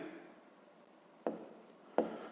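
A pen writing on paper while a maths problem is worked out, a soft continuous scratching with two sharper taps or strokes, close and quiet, no talk.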